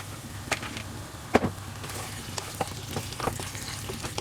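Cut chicken pieces join potato in a pan for a Kerala-style chicken stew, producing a continuous close sizzle punctuated by several sharp clinks and scrapes of stirring, with no speech.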